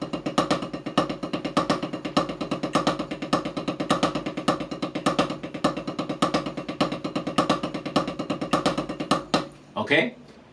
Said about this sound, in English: it sounds something like this. So now we have our 5-beat phrase